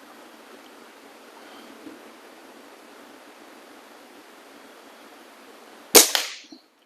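An Air Venturi Omnistorm air rifle fires one sharp, close shot near the end, following several seconds of steady background hiss and a short, ringing tail.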